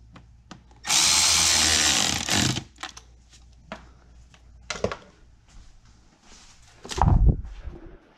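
Power tool tightening a hose clamp on the intake of a 2011-2013 BMW X5 E70 with the N55 engine, a loud steady whir of about two seconds, followed by scattered clicks and a short burst near the end.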